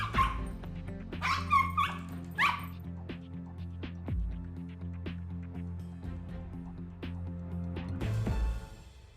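A dog barks a few times early on, in loud, close, clustered yelps, then drops to silence over a steady low indoor hum that runs throughout.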